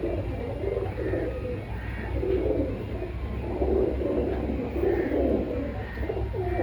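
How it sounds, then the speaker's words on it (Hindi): Pigeons in a market street with caged and free-roaming tame birds coo steadily in soft, overlapping repeated phrases, close and continuous over a low background hum. "यहाँ पे काफ़ी सारे कबूतर जो हैं।"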